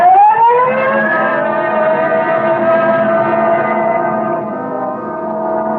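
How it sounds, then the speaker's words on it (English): A loud police car siren in an old Dragnet radio episode wails steadily, rising at the start then holding a long sustained tone with layered harmonics, close and continuous. "Code 3, red light and siren"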